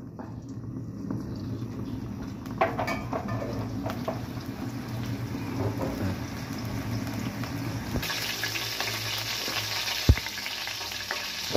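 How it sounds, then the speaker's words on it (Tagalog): Oil heats in a pan already used for squid chop suey, a continuous low sizzle and hiss with occasional small clicks, growing slightly brighter later and a sharp tap near the end. "Painit ulit tayo ng mantika."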